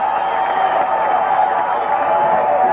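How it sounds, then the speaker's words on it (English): Steady crowd roar fills a college football stadium during Hofstra at Georgia Southern in 2000, a loud, unbroken wash of cheering and murmur that neither swells nor fades. "the crowd's starting to really get into the game"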